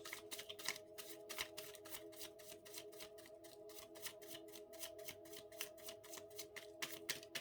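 Tarot cards being shuffled by hand in a quick, steady riffle of crisp papery flicks running throughout, moderately close, with a faint steady background tone and no talking.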